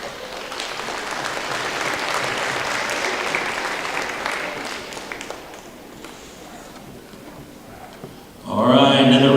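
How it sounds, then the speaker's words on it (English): A crowd at a Lakota Tech High School gala claps loudly and steadily, the applause slowly thinning out before a person begins speaking over the fading claps. "another round of applause for Miss Connie Kalkenbach, superintendent."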